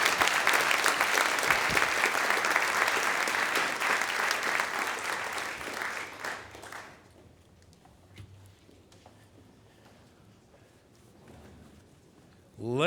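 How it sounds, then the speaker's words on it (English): An auditorium audience at a law debate applauds as the debaters come on stage, a loud, dense clapping that lasts about six seconds and then fades away into quiet room noise. "Let's spontaneously explode into applause and bring our debaters onto the stage."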